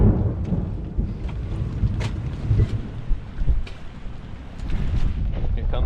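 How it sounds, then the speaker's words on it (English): Rain and thunder roll over a sailboat during a squall with lightning nearby, a steady loud wash of rain and gusting wind buffeting close to the microphone, with low rumbles swelling through it. "Here comes the rain."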